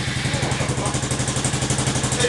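A used motorcycle with about 36,900 km on it idles and revs through an aftermarket muffler, giving a steady, throaty, rhythmic exhaust pulse close by with slight mechanical clatter.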